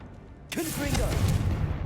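A Confringo fire spell bursts in Hogwarts Legacy, a sudden whooshing blast that swells into a rumbling, crackling roar lasting over a second, with a voice briefly audible beneath it.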